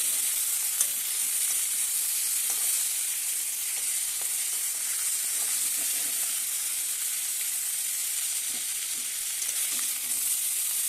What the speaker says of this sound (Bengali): লাল লাল করে ভেজে নিয়েছি, এবার উঠিয়ে নিচ্ছি।